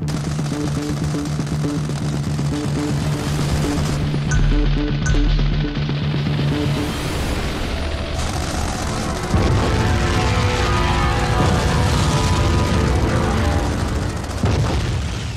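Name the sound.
explosions and gunfire in a virtual reality war simulation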